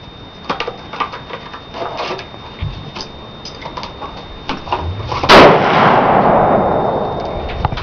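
A bolt-action rifle fired outdoors by a first-time shooter: light clicks and handling noises, then one sharp, loud shot around the midpoint followed by a long rumbling echo that decays slowly.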